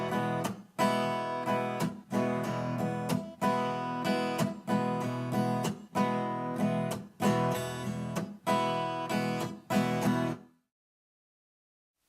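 A guitar plays a rhythmic strumming pattern in a classic rock style, with repeated chord strums broken by short muted dead-string hits and quick upstrokes, the strings left ringing into the next downbeat; loud and close, alone, ending in silence.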